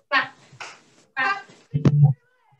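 A child makes a few vocal sounds, then claps hands under a leg, giving a short burst of dull claps up close near the end.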